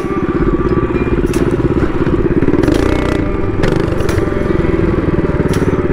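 Baja mini bike with a Predator 212cc engine revving hard while its rear wheel spins out, a loud, steady close engine drone with rattling clatter running through all six seconds.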